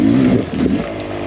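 Beta XTrainer 300 two-stroke dirt bike engine revving hard while climbing a riverbed full of big boulders, a loud close engine roar that dips briefly and keeps pulling, heard alone with no talk.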